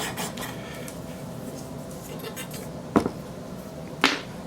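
A metal rifle hand guard is lapped with lapping compound, soft rhythmic back-and-forth rasping scrapes close up, ending in a couple of sharper knocks.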